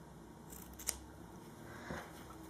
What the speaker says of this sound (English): We need to clip the corners.